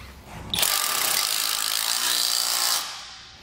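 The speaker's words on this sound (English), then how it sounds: "Then we'll just apply a flat washer and a lock nut. Just get that threaded on there and tighten down. And now we'll tighten it down all the way." A lock nut is tightened down on a trailer chain bracket with a power tool, producing one continuous close mechanical whirring and ratcheting burst of about two seconds that begins abruptly and then fades out.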